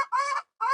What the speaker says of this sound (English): Even now we have a lot of guinea fowls at the farm.